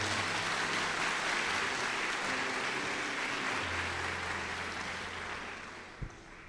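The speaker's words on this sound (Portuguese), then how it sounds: "Pode aplaudir." Applause from a congregation during a Catholic sermon, a broad wash of clapping that holds steady and then fades toward the end, heard fairly faintly with a soft low hum beneath.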